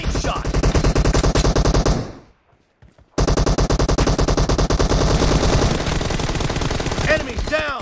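Sustained automatic rifle fire in PUBG Mobile Team Deathmatch, loud rapid bursts close up, a brief pause of about a second, then another long burst rattling on to the end.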